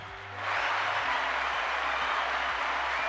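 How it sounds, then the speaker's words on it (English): A canned applause sound effect played on a severe weather broadcast, a steady wash of clapping that swells in after a brief lead-in and holds at even loudness over a low background hum. "I was searching for my applause. I finally found it."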